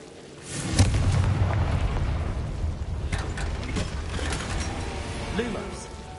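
The Confringo blasting curse from Hogwarts Legacy sets off a sustained rumbling explosion that swells and churns for several seconds, loud and dense, with mechanical crackles layered over the roar.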